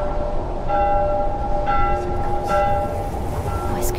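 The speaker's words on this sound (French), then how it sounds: "Pourquoi cette cloche n'arrête pas de sonner?" A bell clangs repeatedly in a fast, continuous ringing with overlapping metallic tones, loud and close over background rumble.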